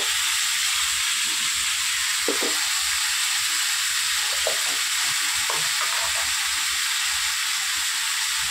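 Mango pieces sizzle loudly in a hot pan for mango pickle, a constant close hiss of frying with a few soft stirring knocks scattered through.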